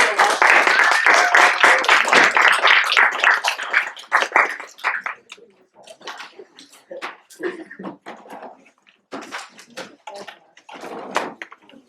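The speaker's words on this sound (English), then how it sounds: "Let's give that first speaker a round of applause." Audience at a debate demo claps for the first speaker, dense applause for about four seconds that thins into scattered individual claps, with a few voices murmuring.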